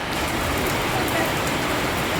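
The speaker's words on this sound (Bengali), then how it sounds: "আমাদের এদিকে সেই বৃষ্টি, তোমাদের ওদিকে বৃষ্টি হচ্ছে" Rain falls in a dense, continuous wash of patter on surfaces, loud and even, with no break across the short stretch.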